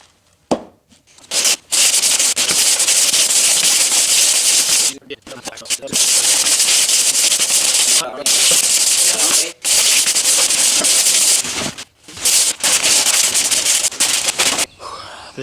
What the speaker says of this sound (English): I've been sanding at this